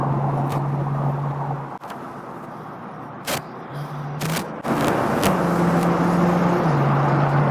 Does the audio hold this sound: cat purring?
no